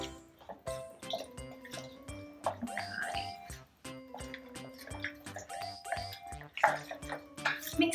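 Corn flour being mixed with water into a chalky paste, with repeated stirring, tapping and wet clinks of a utensil against a bowl in an uneven rhythm, close and fairly quiet, with no talking.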